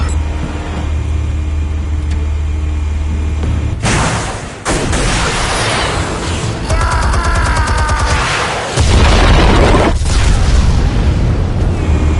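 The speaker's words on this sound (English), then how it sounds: "Explosives armed. Fire when ready." Explosives go off in a Batman video game on PS4, with a deep, loud boom that rolls out into a long rumble and debris-like crackle, followed by further heavy blasts over a constant low engine-like drone.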